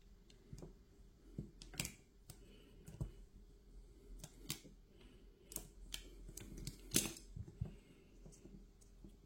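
Scissors snip through a heat-shrink sleeve to trim it to size, making a series of sharp, close clicks and cuts spaced irregularly over quiet background.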